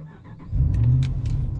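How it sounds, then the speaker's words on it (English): A pickup truck engine idles and revs up close, a steady low rumble that swells after a quiet start and holds loud, with light rain falling outdoors. "Thunder. That's my truck."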